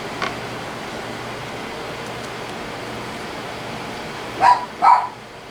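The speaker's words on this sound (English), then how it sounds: "And there goes the dog again." A dog barks twice in quick succession near the end, two loud close woofs after a stretch of quiet room noise.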